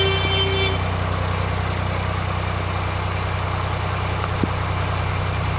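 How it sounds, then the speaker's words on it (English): A narrowboat's steady low engine idles throughout, with a brief tonal horn blast near the start, fairly close over the constant rumble. "I'll sound my horn"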